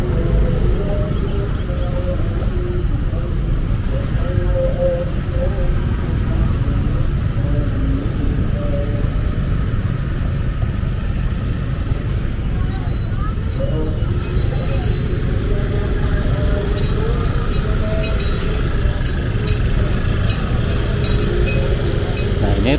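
Congested holiday traffic in central Bandung near the eastern town square: a dense, continuous rumble of idling cars and motorcycles, engines droning nearby, with people talking over the steady noise.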